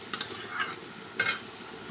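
A spatula stirs greens in a pan, giving a couple of quick scraping, clattering strokes up close, a short pause, then another louder scrape, with a faint background hiss and no voices.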